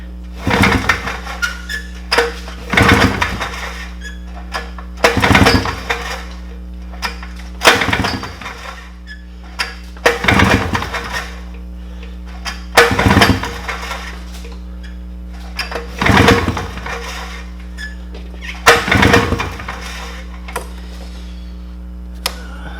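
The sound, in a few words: 1997 Polaris Trailboss ATV engine pulled over, compression test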